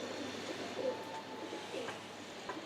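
High flyer pigeons coo softly inside a loft, a low steady murmur of calls with a faint background hum and no talking.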